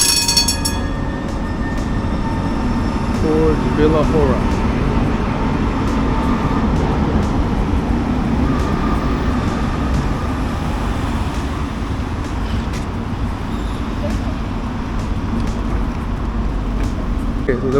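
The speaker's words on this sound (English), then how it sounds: "That's my train." A train arriving and running along the track in Prague, a loud, continuous rumble and clatter close by with brief squeals, while an announcement voice speaks over it.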